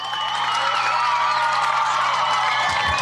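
Studio crowd of cheering and applause played on a podcast, a steady dense roar of clapping and whoops throughout at full level.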